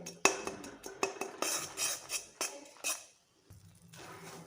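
A metal utensil stirs roasted coconut into melted jaggery in a pan, making close, faint clinks and scrapes in an irregular rhythm, then a quieter scraping after a short pause.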